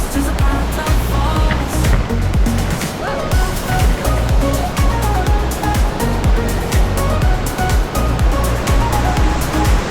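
A roughly 30-foot waterfall in Colorado pours as a steady, loud, broadband rush of falling water. The roar stays constant throughout with no breaks, and a faint bark may come through at times.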